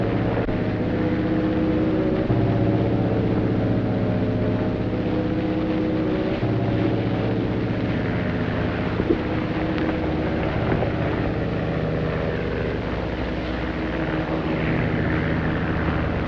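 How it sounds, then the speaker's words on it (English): Propeller airplane flies overhead in an old cowboy film, a loud, steady droning engine hum that holds for the whole stretch with no talk. "The same plane that was over last week"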